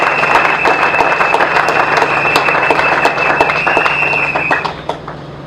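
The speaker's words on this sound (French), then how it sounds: "je voudrais que tous ensemble nous puissions nous applaudir et applaudir particulièrement cette initiative que nous avons prise" A seated audience at a Congolese political press briefing on the situation in eastern DR Congo bursts into sustained applause, dense clapping held steady for about five seconds before fading, with a faint tone running underneath.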